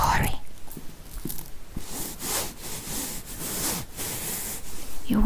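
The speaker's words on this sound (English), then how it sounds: "You want me to keep rubbing your neck?" Hands rubbing during a close-up neck rub, soft repeated swishing and brushing strokes in an even rhythm, intimate and near, with faint whispering.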